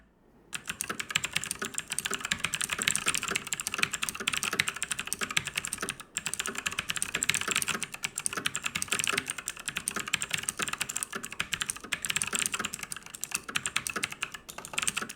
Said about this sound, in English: They're really loud and clicky. But I guess that's a blue switch